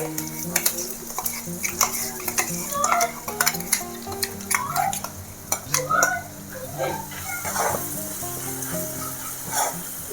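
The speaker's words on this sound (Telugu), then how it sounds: "ఇప్పుడు ఇందులోకి మనం మిక్సీ పట్టుకున్న దీన్ని వేసేసుకుందాము" A ground paste goes into a frying pan for tamarind-leaf pulihora and is stirred. A spatula clinks and scrapes repeatedly against the metal pan over a steady sizzle, close up, with no talk.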